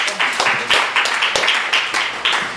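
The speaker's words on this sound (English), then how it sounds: "Put your hands together and make a big round of applause for Davy Rothbart and Ada Calhoun." Audience applause and clapping for guests at a book discussion event, steady and fairly close, lasting a few seconds with no talk over it.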